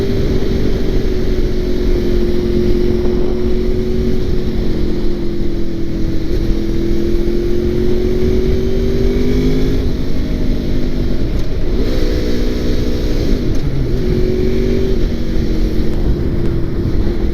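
A 2002 Honda VFR800 motorcycle engine runs steadily while riding, a continuous near drone whose pitch rises and falls as it accelerates and eases off, with rushing wind noise throughout and no talk.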